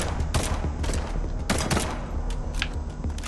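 Rapid bursts of gunfire from the action-platformer game Liberated, sharp cracks clustered in quick volleys over a low rumble, with no voices.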